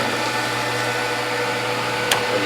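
A Norwalk juicer motor runs steadily with a constant low hum and broadband whir, sustained and fairly close, with one brief sharp click near the end.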